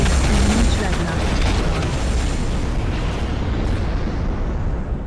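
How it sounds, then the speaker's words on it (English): A big cannon firing in the strategy game Ashes of the Singularity, producing a loud, sustained rumbling blast that fills the whole stretch. "Fire your big cannon. We need the big cannon."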